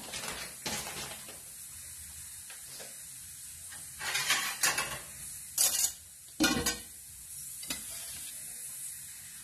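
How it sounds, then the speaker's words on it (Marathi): Papad frying in hot oil, a quiet continuous sizzle broken by several sharp crackling bursts and clinks of a utensil in the pan, close up. "प्रथम आपण पापड तळून घेऊया."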